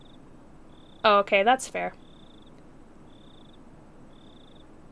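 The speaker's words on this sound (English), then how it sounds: "I could hear the crickets." Crickets chirp at night in the Higurashi video game: soft, evenly spaced chirps repeat in the background while a voice briefly speaks over them.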